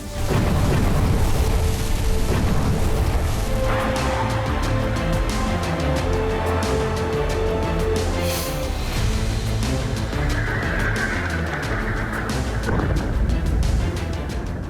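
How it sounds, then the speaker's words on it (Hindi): Heavy explosions ripple from a Hezbollah weapons depot hit by an Israeli strike in southern Lebanon, a continuous loud rumbling barrage of booms with no pauses, sustained throughout. "हमले के बाद बिल्डिंग से आती धमाके की ताबड़तोड़ आवाज बताने के लिए काफी है ये हमला कितना भीषण था"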